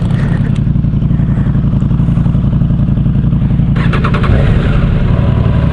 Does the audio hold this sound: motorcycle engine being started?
yes